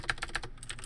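Keys clatter on a computer keyboard as a command is typed into the Windows command prompt: quick, close, evenly spaced keystrokes with no talking.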